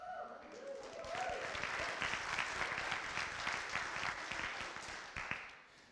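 Audience at a high school jazz band Christmas concert claps in sustained, even applause that swells after a brief pause and carries on steadily before tapering off.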